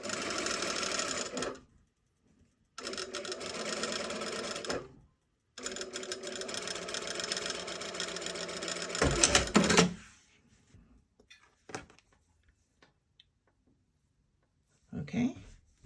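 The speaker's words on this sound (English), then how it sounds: "For visible sewing like this, I sew it at a 3." A sewing machine stitching a seam finish runs in three close, loud bursts of rapid mechanical chatter separated by short pauses, then stops, leaving faint handling clicks and quiet talk.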